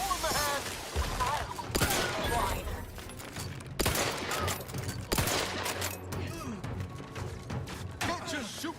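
Shots echo across a shooting range in The Outer Worlds 2, a few sharp reports breaking through steady game ambience and talk.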